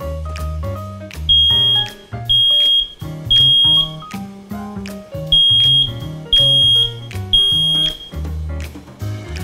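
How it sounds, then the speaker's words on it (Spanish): Repeated high electronic beeps from a smoke alarm being tested in a steady pattern, about seven short bursts over music-like tones, loud and close. "Para checar su alarma, presiona este botón. Si escucha una alarma, significa que la batería está en buena condición."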